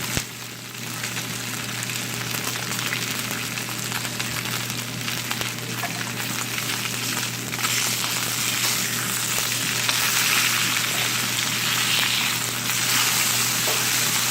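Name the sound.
opah fish searing in a hot pan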